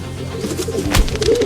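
Pigeon cooing in a single soft, throaty burst near the middle, close by, over a low steady background with no talk.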